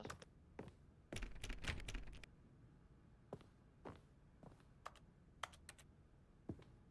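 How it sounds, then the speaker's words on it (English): Keyboard-tapping clicks sound in The Stanley Parable, with a dense cluster of taps early on, then sparse single clicks spaced a second or so apart. They stay faint and near over a low hum. "It's funny how it sounds like everything I click on sounds like me tapping on a keyboard."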